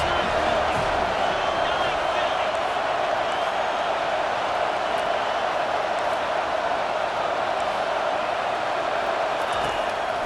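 Stadium crowd in EA Sports College Football 25 keeps up a dense, unbroken roar on a big third down, loud and constant from start to finish with no pauses or swells.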